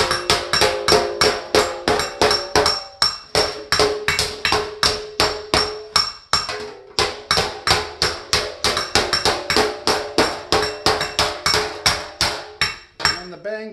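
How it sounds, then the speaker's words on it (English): A hammer strikes aluminum sheet on an anvil while shaping an armor back plate. The blows are sharp, ringing and rapid, over a dozen seconds, with a brief pause midway and no talk. "I got to move the piece and keep hammering in the same spot."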